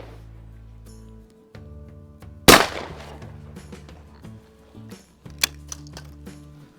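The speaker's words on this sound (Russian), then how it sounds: "выстрел даже с дымком" A single sharp shotgun blast from an MTs7 shotgun stands out loudly partway through, followed by a decaying tail, with a faint click and a second small report later over a low background hum.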